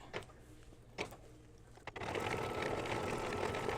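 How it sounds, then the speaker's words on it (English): An embroidery sewing machine quilts a small in-the-hoop coin purse, its steady mechanical whir starting near halfway and running on continuously after a few soft knocks and handling sounds. "now it's doing the quilting"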